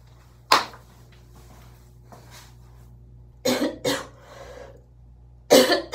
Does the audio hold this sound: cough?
yes